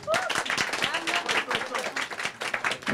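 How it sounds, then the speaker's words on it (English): Guests at a Bollywood book launch clap in a brisk, choppy round of applause, with voices talking and calling out through the clapping. "You all can give a big round of applause."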